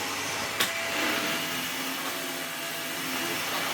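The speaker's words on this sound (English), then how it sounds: "We're going to go straight to carpet and do some vacuuming." Hoover HL4 bagless upright vacuum cleaner runs on carpet with a steady, loud motor whine and airflow hiss, a brief knock near the start, continuous throughout without talk.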